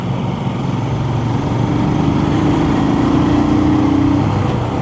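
A Royal Enfield Scram 411 motorcycle pulling in third gear on a road ride: a steady, close single-cylinder drone whose pitch climbs gradually as it accelerates, with wind rush around it.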